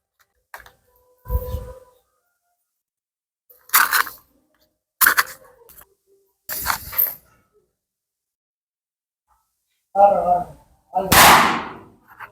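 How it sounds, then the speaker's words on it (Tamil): Diwali firecrackers bursting outdoors, a batch of crackers worth 3000 rupees going off as sharp, separate bangs and cracks spaced a second or more apart, with quiet gaps between and a final louder, longer burst. "இந்த மாதிரி தான் நாம் வாங்கின 3000 ரூபா பட்டாசும் வேற லெவலில் வெடிச்சதுங்க"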